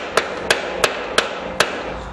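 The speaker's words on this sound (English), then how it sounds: "So we'll start working on this with a hammer a little bit in the corners." A hammer strikes the corners of a metal part during the build of a Welbike, five sharp, evenly spaced ringing blows close by with nothing else in the background.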